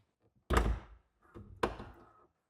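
The door of a Microlino car is shut gently, producing two soft thunks about a second apart, the second a quieter latching as it closes softly, heard up close with no talk.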